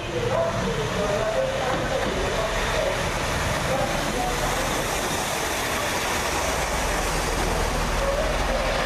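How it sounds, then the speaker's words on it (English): A First Great Western Class 165 diesel unit from London Paddington pulls into Oxford station, its engine droning steadily with a rumbling, noisy platform wash and some faint background sounds. "First Great Western service from London Paddington. This train will terminate here."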